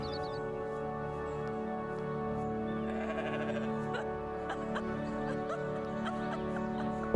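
Goats bleat in The Stillness of the Wind, a video game, their calls faint and brief over a steady, dense layer of game music and ambience.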